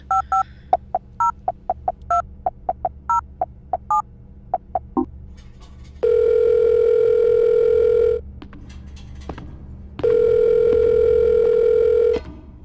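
A phone call in Silent Hill: Shattered Memories: a quick run of dialing tones, then two long, loud steady ringback tones separated by a short pause, clear and alone with no talking.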